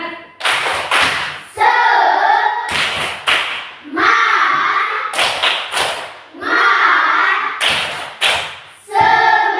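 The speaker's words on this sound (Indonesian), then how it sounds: "Kalau semangat kita sama-sama tepuk semangat." A classroom of children performs the rhythmic spirit clap, sharp claps in short patterned bursts alternating with chanted shouts, repeated several times and heard up close.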